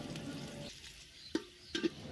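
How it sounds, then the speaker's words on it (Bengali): Onions frying in hot white oil in a pot for basmati rice pulao, a soft steady sizzle with a quieter stretch and a few brief clatters of stirring near the end. "পোলাওয়ের জন্য পেঁয়াজটা ভেজে নিচ্ছি।"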